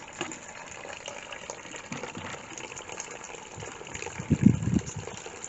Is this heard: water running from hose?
yes